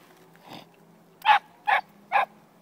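A dog tugging and biting at brambles outdoors gives one soft muffled woof, then three loud, sharp barks evenly spaced about half a second apart.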